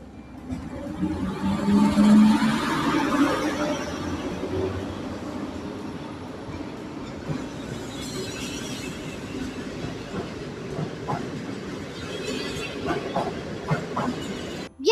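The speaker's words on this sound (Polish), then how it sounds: "Odjeżdża pociąg TLK Chemik ze stacji Płock do stacji Katowice." A TLK Chemik passenger train departing a station in Poland rolls along with a rumbling, clattering rhythm that swells early and then holds steady, with faint squeals and knocks of carriages over rails.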